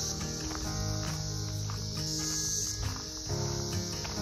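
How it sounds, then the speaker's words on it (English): A dense, steady cicada drone fills a forest, a continuous high buzzing chorus with layered pulsing textures and no talking. "You can hear all the cicadas."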